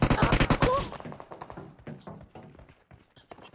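Gunfire in the mobile battle game PUBG Mobile at the Georgopol containers: a rapid burst of loud shots at the start, then scattered lighter shots and thumps while players talk over it.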